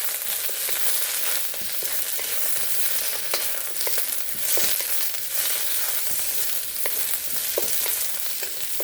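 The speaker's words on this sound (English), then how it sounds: "now, we'll just throw in the snow pea pods. And we'll quickly toss." Snow pea pods are stir-fried with garlic and ginger and sizzle hard and steadily in a hot pan, with scattered clicks and scrapes as they are quickly tossed, and no talk over the sound.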